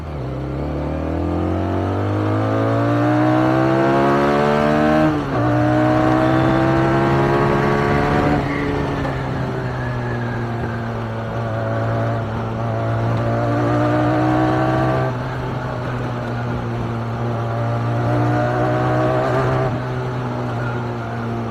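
A Kawasaki ZX10R inline-four superbike revs hard and close, climbing in pitch through several rising sweeps toward high rpm, then settling into a loud sustained howl with brief dips between pulls.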